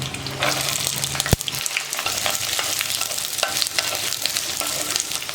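Onions fry in oil with garlic and dried red chilies in a kadai, giving a loud, continuous close-up sizzle with repeated stirring clatters throughout and no voices.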